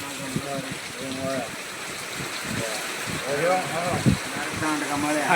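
Rainwater still running through village farm fields after heavy rain, a continuous gushing trickle heard under people talking nearby.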